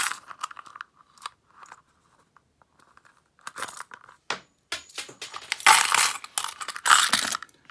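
Coins from a random lot, including an 1868 Spanish silver escudo, are handled close up, clinking and rattling in scattered bursts before a busier stretch of jingling and dropping near the end.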